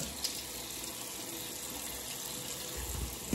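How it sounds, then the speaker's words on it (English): Cold water runs from a tap to rinse a face after a shave, a steady close splashing hiss that holds evenly throughout with no talking. "Rinse that last little bit with cold water."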